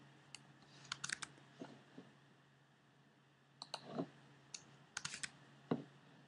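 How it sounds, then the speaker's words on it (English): Typing on a computer keyboard in a quiet room, in short bursts of sharp clicking keystrokes separated by brief pauses, close and fairly quiet. "I'm just going to type it in here."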